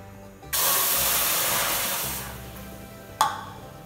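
Steaming water is poured in a steady hissing rush for about a second and a half, fading, then a brief sharp hiss near the end.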